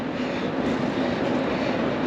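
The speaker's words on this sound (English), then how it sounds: "here comes another train now" A train pulls in at Keleti railway station in Budapest, a steady, continuous rumble of rail cars rolling along the platform, fairly loud and unbroken, with no talk over it.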